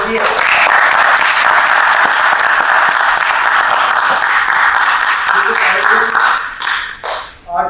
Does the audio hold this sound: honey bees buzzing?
no